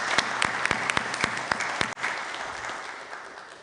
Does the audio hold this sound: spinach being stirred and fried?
no